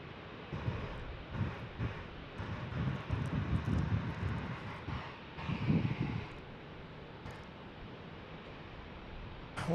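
A Southwest airliner passes near San Diego, its engine roar swelling into a faint, breathy rumble that peaks midway and then fades into a softer hiss.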